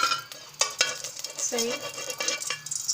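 Ghee is spooned into a hot pan and stirred for carrot halwa, making soft metallic scrapes and clinks over a faint sizzle, close by, with a voice briefly speaking.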